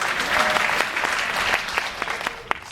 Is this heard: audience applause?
yes